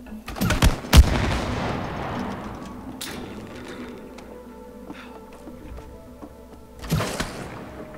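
Shooting at honey in the video game It Takes Two, with a loud burst of sharp game gunfire at the start, a quieter stretch of clattering effects, then another shot near the end.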